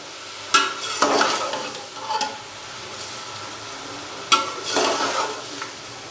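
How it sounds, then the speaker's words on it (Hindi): Chicken pieces fry in a pan with ginger garlic paste for pulao, steady sizzling broken by several scraping stirs of a spoon, close and fairly loud. "अच्छे से इसको मिक्स करेंगे और चिकन को भून लेंगे 5 से 7 मिनट के लिए"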